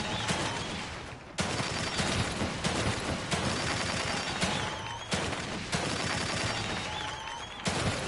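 Loud, dense bursts of gunfire from the survival horror game The Evil Within 2, coming in repeated volleys separated by brief breaks, with no talking over it.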